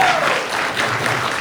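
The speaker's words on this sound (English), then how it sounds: "Another round of applause for these guys" A burst of audience applause for a panel at a gaming expo, dense clapping throughout the short moment.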